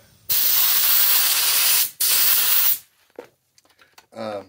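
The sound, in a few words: pressurized sprayer spraying adhesive for vinyl tops and seat foam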